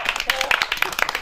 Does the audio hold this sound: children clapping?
yes